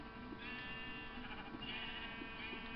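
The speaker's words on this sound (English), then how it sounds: "Come here, sheep." Repeated sheep bleats from an animal in a Minecraft-style video game, wavering calls at a steady moderate level over a constant background hum, with no talking.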